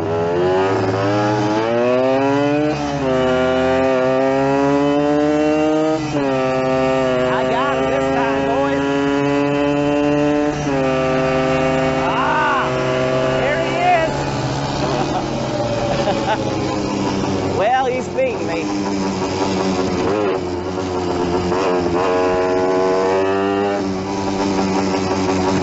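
Two Yamaha street motorcycles, one two-stroke and one four-stroke, race from a rolling start, their engines roaring loud and close with rising, shifting revs that hold steady throughout.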